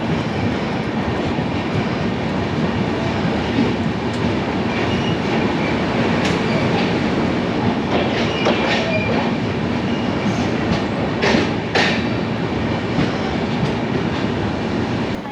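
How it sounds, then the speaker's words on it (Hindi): The North East Express pulls away ahead, a loud continuous rumble with rhythmic wheel clatter and occasional sharp squeals of rails, no voices. "ये जो आप ट्रेन देख रहे हो आगे आगे जा रही, ये है नॉर्थ ईस्ट एक्सप्रेस"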